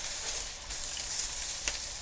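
Octopus sizzling on a grill, a constant bright hiss with a few faint pops, close and steady.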